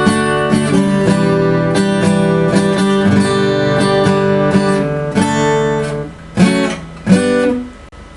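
Acoustic guitar playing a song intro, with ringing strummed chords and picked notes in a steady rhythm. The guitar is close and loud, and there are no voices.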